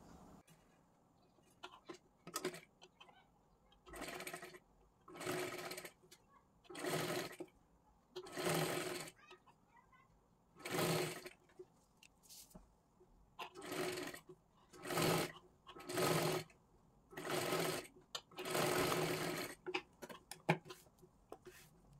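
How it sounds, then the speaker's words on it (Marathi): A sewing machine stitches close along the edge of blouse fabric in about a dozen short bursts of steady whirring, each lasting one to two seconds, with brief pauses between them and no talk. "एकदम कडेला एक शिलाई मारून घ्यायची आहे."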